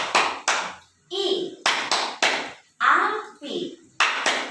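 Young children clap out a rhythmic fire-themed chant in a kindergarten classroom, several bursts of sharp group claps alternating with their chanting voices, close and lively.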